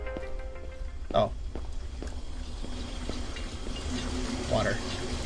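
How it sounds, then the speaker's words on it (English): Water runs steadily in a horror exploration video game, a continuous mid-level rushing flow with a couple of louder gurgling swells, heard under occasional voices. "Water."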